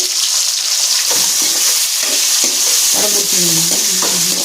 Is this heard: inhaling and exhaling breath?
no